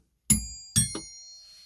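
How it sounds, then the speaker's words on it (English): A doorbell's two-tone chime rings out alone, one bright strike followed by a second, each tone decaying slowly into silence. "It's a doorbell."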